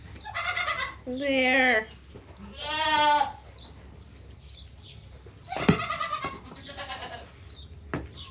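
Baby goats being bottle-fed on a small farm bleat in several loud, wavering calls with short pauses between them, and a person speaks briefly.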